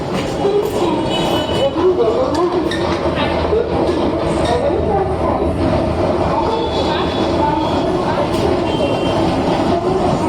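Continuous rumble and rattle inside a moving train carriage, a steady loud rolling noise with faint clatter and scattered knocks throughout.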